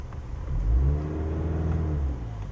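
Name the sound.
Cadillac CT4-V engine revving in race mode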